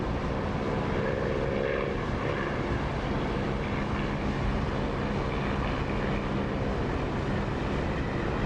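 Steady propeller engine drone of a fixed-wing aircraft in the DCS flight simulator, running at about 2,700 RPM after a prop pitch adjustment, loud and continuous with a constant broadband roar and no talk.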